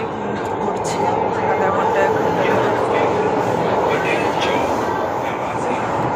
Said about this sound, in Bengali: এখন আছি মেট্রোতে